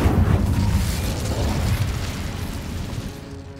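An Incendio fire spell cast in the video game Hogwarts Legacy erupts as a loud, dense burst of roaring flame and rumble, strongest at the start and then sustained at a slightly lower level across the moment, with no voices.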